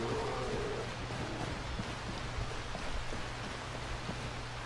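Steady rain falls in a constant hiss in the video game Skyrim, with a low droning hum underneath and no voices.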